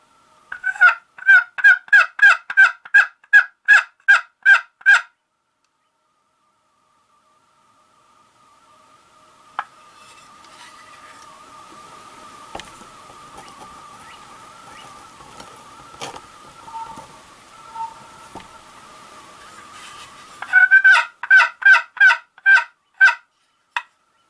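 A wild turkey gobbles at the opening of turkey season, answering in rapid pulsed bursts at the start and the end, loud and clear, with a quieter stretch of faint distant calls and noise between them.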